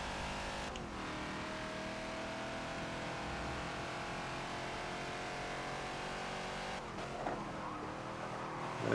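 Ford Falcon XB race car engine lapping Hockenheim National in Forza, a loud, steady close-up drone held for several seconds, with two brief dips as the driver lifts and the revs shift before climbing again.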